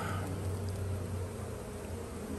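Honeybees buzzing in an open hive: a dense, continuous drone of many insects, close and steady, with no talking.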